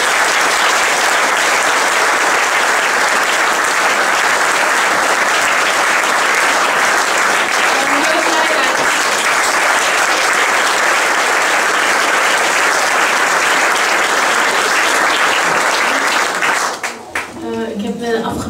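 Audience applause at a music final exam concert, loud dense clapping sustained for a long stretch, then fading out near the end as a voice begins to speak.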